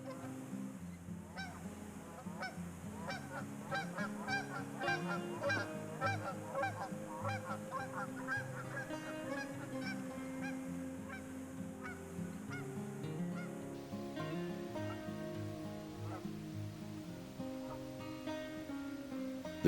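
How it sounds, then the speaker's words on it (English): Migrating Canada geese honk repeatedly in overlapping calls in early spring at Elk Island, a lively chorus at moderate distance with no talking. "The Canada geese were migrating at this time"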